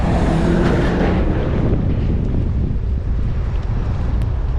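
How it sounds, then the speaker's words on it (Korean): A strong headwind roars into the microphone while cycling uphill on a road busy with rush-hour traffic, a loud, continuous rushing buffet with no voices. "현재 맞바람이 불어가지고"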